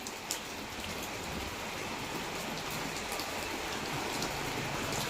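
Steady rain falls continuously, a dense, even hiss with occasional louder drops, no voices.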